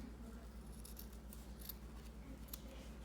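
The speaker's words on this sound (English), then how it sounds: "You just trim the corners." Scissors trim the fabric corners of a sewn mask, producing a few faint, quick metallic snips over a low steady hum in a quiet room.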